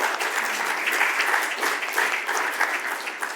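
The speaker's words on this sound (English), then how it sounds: "Please, a round of applause for my panelists here." An audience at a conference panel session on local Green Deal implementation claps steadily for the panelists, a dense, even round of applause sustained throughout without voices.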